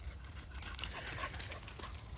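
A dog pants and whimpers faintly outdoors over a low, rumbling background, with soft breaths and whines continuing throughout.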